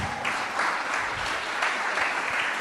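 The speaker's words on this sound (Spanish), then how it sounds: "dele un aplauso a Dios por eso." A church congregation applauds God during a Spanish-language sermon, steady clapping at moderate volume filling the room evenly for the whole stretch, with no one speaking over it.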